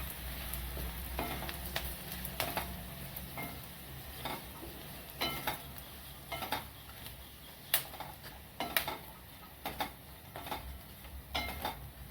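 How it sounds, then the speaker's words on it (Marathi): Dry grated coconut roasts with garlic and green chillies in a pan, producing a soft continuous sizzle broken by repeated clicks and scrapes of a spatula stirring against the metal. "आपण त्यामध्ये सुक्कं खोबरं टाकू सुक्कं खोबरं पण लाल परतून द्यायचं चांगलं"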